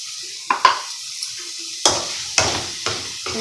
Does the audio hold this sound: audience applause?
no